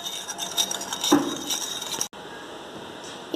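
A utensil clinks and scrapes against a bowl as oil is mixed into instant yeast dough for no-oven Nutella croissants, with close, light metallic taps before a brief pause and a final clink.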